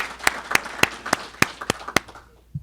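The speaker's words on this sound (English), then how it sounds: "Stand up and give him a round of applause." Steady, evenly spaced clapping from a small audience at a construction mentor-protégé program graduation, about eight sharp claps at a brisk pace that stop abruptly, followed by a faint low thump.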